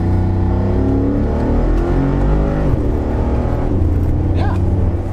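Mercedes-AMG G63 6x6, a three-axle off-roader with 544 PS, revving its engine hard in two throttle blips, a loud, deep roar close by with no talk over it.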